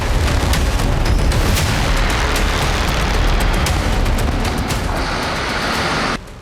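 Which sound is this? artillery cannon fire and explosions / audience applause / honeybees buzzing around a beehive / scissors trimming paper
artillery cannon fire and explosions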